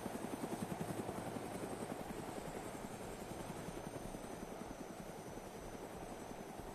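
A video game helicopter's rotor chops rapidly and steadily with an engine whine underneath, heard close and continuous throughout with no talk.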